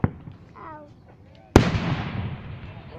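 Fireworks burst high overhead at a North Andover display: one sudden loud boom lands partway through, then a long rumbling decay, with people chatting beforehand.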